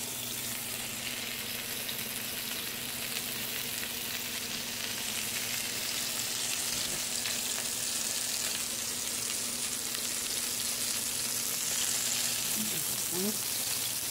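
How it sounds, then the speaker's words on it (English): Beef patties for gravy steaks fry in a hot pan with a steady, even sizzle that stays close and moderately loud throughout, with no talk. "You have to keep an eye on these patties because they cook really, really fast."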